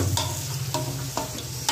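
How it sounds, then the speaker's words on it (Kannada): Large-cut tomatoes sizzle and fry in a hot pan for bisibele bath, with a few distinct stirring scrapes over a steady hiss, close and alone. "ಈಗ ಟೊಮೆಟೊ ಹಾಕ್ತಾ ಇದ್ದೀನಿ. ಟೊಮೆಟೊ ಎಲ್ಲ ದೊಡ್ಡ ದೊಡ್ಡದಾಗಿ ಹೆಚ್ಕೊಂಡಿರೋದು."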